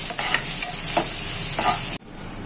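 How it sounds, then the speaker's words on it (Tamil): Thuthuvalai leaves are sautéed in a pan, giving a steady sizzle with light stirring scrapes for about two seconds before the heat is cut and the hiss drops away. "ஒரு 2 நிமிஷம் வதக்கி ஆஃப் பண்ணிடலாம்"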